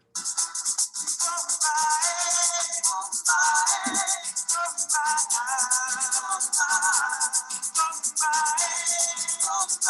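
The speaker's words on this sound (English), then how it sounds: "This is a song of modern bomba." A lively modern bomba song with dense hand drumming and bright percussion under melodic voices singing throughout, steady and loud from start to finish.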